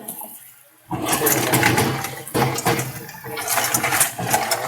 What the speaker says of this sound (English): I'm gonna start, put it on spray. I got them in a colander.